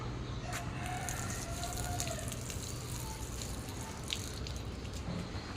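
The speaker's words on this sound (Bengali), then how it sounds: "সব গাছগুলো আমি পানি দিয়ে দিচ্ছি" Rooftop garden plants being watered in hot sun, faint steady splashing and dripping with a few sharp drip ticks and a distant background tone.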